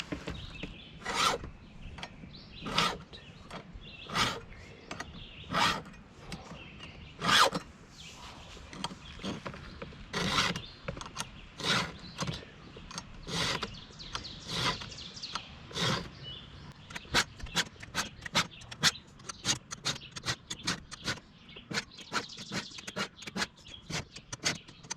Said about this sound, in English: This is a Oregon chainsaw sharpening tool with a guide.